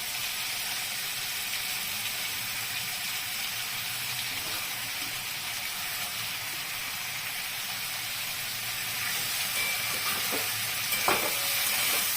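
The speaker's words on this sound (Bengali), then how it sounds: "এখন এই অবস্থায় আমি পাতাগুলো দেবো" Potatoes and pointed gourd simmer with salt and turmeric in a covered pan as ash gourd leaves go in, making a soft, steady sizzle and hiss with a few faint clinks near the end, no voices.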